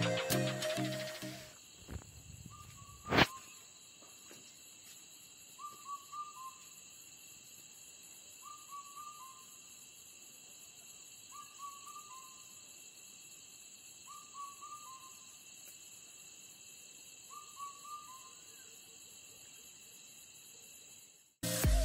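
An Uttarakhand cuckoo, the kafal pako bird, repeats a short call roughly every three seconds, faint and distant, over a steady electronic hum and quiet background.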